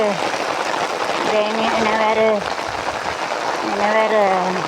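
Steady rain falling on a surface outdoors, a continuous patter under a person talking over it throughout.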